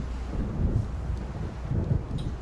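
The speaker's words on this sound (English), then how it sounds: "It seems there's a storm coming." Low rumbling thunder from an approaching storm in the video game Alan Wake, rolling in two swells over steady rain-like hiss, fairly loud and close with no talking.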